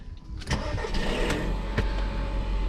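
An automatic car with a flat tyre starts up in the rain: a short crank, then the engine catches and settles into a steady, loud idle.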